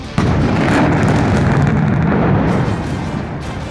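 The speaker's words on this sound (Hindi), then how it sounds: "धमाके की आवाज से अफरा तफरी फैल जाती है" A heavy blast at an unlicensed factory in Hapur, a sudden loud explosion followed by a sustained roar and rumble of debris that slowly fades.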